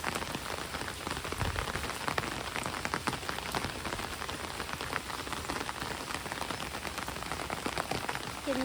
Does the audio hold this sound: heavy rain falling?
yes